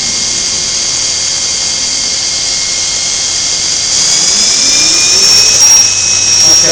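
A 1998 Cincinnati-Milacron Arrow 750 CNC vertical machining center spindle spins up toward 6,000 RPM. A loud, steady high-pitched whine holds alone and rises in pitch partway through.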